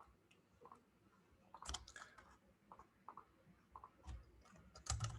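Soft, sparse keystrokes tap on a computer keyboard, a few quiet clicks and short clusters, faint and close in a quiet room.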